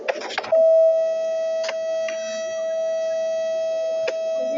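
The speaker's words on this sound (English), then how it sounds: "This is a fire alarm." A fire alarm sounds during a system test. It starts with a brief burst of noisy clatter, then a steady, loud electronic tone holds continuously, broken by a few faint clicks.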